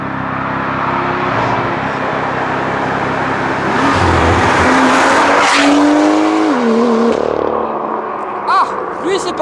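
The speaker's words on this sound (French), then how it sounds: "c'était violent ce launch control" A BMW with a modified exhaust makes a launch-control start: a loud, close engine roar rises and falls through the revs, with tire squeal and short gear-shift breaks, while voices talk over it.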